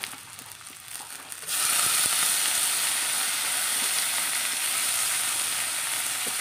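Dried fish dropped into a kadai of garlic, green chili and chopped onion bursts into loud, steady sizzling after a quiet moment, a dense frying hiss that holds on to the end.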